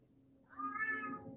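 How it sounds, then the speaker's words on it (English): A cat meows loudly and drawn-out, one rising, wailing scream-like cry that swells after a quiet start and holds to the end, heard alone over faint background hum. "Oh, boy, that cat's screaming."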